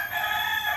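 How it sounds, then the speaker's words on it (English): A rooster crows in a brief, steady, harmonic burst at close range, filling the short moment with no voices. "Do you hear the roosters crowing?"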